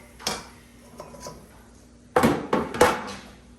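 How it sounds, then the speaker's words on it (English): Potatoes are tossed into a bowl in a kitchen, giving a few light clatters and knocks, one early and then a quicker cluster of three near the end, close and moderately loud. "we're just going to get all of these potatoes back in this bowl"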